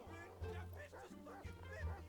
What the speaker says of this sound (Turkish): Sal oğlum köpeği niye tutuyorsun?